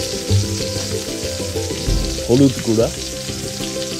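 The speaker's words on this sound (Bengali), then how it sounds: "মশলাগুলোকে হালকা আঁচে কিছুক্ষণ ঢেকে জাল দেওয়া হবে।" Spice pastes of onion, garlic, ginger and dried chilli with turmeric powder frying in a pan, a steady close sizzle with a couple of louder stirring bursts near the end and a brief voice at the start.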